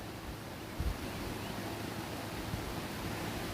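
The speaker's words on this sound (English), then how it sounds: "So, yeah, Curtis, that's the Potomac River" Steady wind and moving water by the Potomac River near the headwaters of the Chesapeake Bay at sunrise, a constant broad rushing wash with low microphone rumble and no voices.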